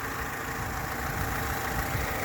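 Daewoo Lanos 1.5 gas-petrol engine from 2005 idles in a short, steady low hum with a faint mechanical patter, even and unchanging, with no voices.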